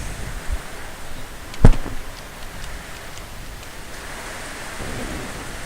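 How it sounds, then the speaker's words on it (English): Heavy rain in Final Fantasy IV pours as a steady, dense hiss, with one sharp, thunder-like crack near the middle and no one talking. "It's raining heavily outside"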